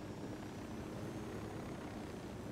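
A helicopter in Ghost Recon Wildlands drones steadily with a dense, rumbling rotor wash that stays loud and even for the whole stretch, with no voices over it.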